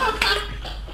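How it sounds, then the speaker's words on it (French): A single short, fairly close cough from a man during a Robocraft gaming session, a brief rough burst that fades into quiet background noise. "Attends, je tousse."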